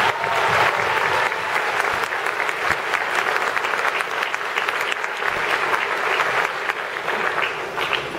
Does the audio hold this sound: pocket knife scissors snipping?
no